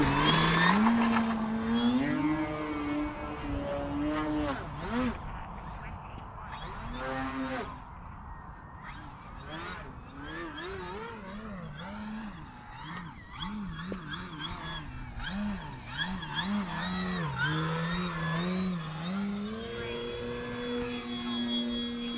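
A Skywing 48-inch Slick 360 V2 RC airplane on 6S power gives off a continuous, fairly loud electric motor whine that rises and falls with throttle throughout its flight.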